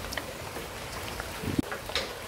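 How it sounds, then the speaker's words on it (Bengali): Steady light rain pattering on surfaces after about an hour of downpour, a soft continuous hiss with scattered drips and one sharper knock near the end; no voices. "ফাইনালি গাইস বৃষ্টি একটু কমছে"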